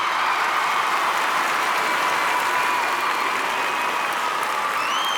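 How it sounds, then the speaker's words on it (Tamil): Large auditorium crowd at a film event applauding as a speaker is welcomed onto the stage, a continuous loud wall of clapping and crowd noise holding steady throughout. "அண்ணன் சிவகார்த்திகேயன் அவர்களை அரங்கம் நிறைய கைத்தட்டலுடன் மேடைக்கு வாங்க என்று வரவேற்கிறோம்."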